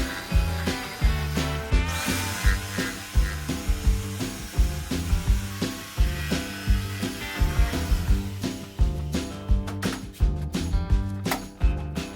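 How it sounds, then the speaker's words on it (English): A drill with a Forstner bit bores into wood, its whirring motor surging and easing in a steady, repeating rhythm up close. "I will use a drill with a Forstner bit to hog out the center material"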